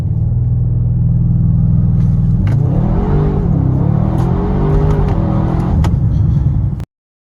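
A Mansory-tuned Audi RS6 station wagon, 820 hp, accelerating from a standstill: a loud, close engine roar holds steady for a few seconds, then climbs through rising revs with sharp gearshift breaks before cutting off abruptly.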